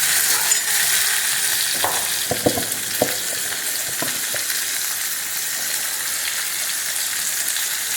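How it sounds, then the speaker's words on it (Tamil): Two tomatoes sauté in a pan with a steady, hissing sizzle, punctuated by a handful of quick spatula taps early on before the frying continues evenly on its own. "இது கூடவே 2 தக்காளி போட்டு நல்லா வதக்கிக்கலாம்."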